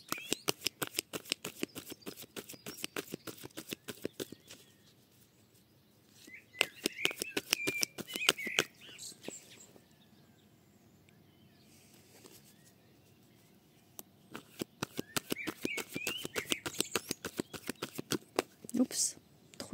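Tarot cards are shuffled and laid out in quick bursts of crisp, rapid flicking and slapping, with pauses between them and birds chirping faintly in the background.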